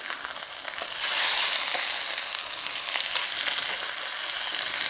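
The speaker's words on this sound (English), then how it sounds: "There we go, nice sizzle there." Pork chops sizzle steadily in a hot pan just after being flipped, a loud, close, bright frying hiss with small pops and no talking.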